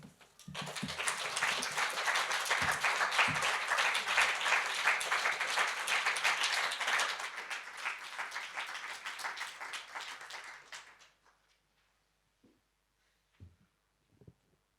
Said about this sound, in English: Can everyone give Fiona another massive round of applause?